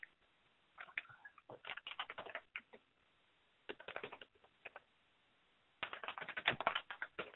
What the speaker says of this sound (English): I'm just going to type in a title here.